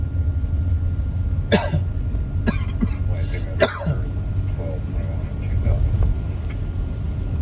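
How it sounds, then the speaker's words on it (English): A few sharp coughs sound close by, spaced irregularly over a steady low hum, followed by softer throat noises. "This coughing is nothing to do with COVID"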